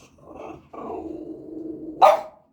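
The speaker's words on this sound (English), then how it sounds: "the dog." A dog close by growls in a low, drawn-out rumble, then lets out a single sharp, loud bark at the end; no talking.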